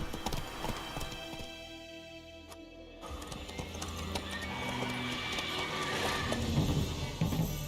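Roach, the horse in The Witcher 3 video game, her hooves clip-clopping in a steady rhythm over game ambience and music, with a brief mechanical clatter partway through.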